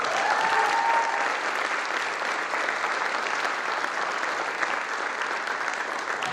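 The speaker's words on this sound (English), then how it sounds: "Can we give our seniors one more round of applause?" Concert audience applause for senior band and orchestra players fills the room, a dense, even roar of clapping that holds steady throughout, with a faint tone sliding briefly near the start.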